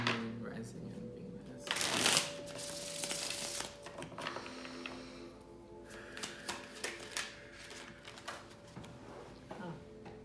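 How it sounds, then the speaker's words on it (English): Tarot cards are shuffled by hand in a quiet room, a burst of riffling followed by softer, irregular card slides and taps, with a voice speaking over them. "these cards are falling all over the place"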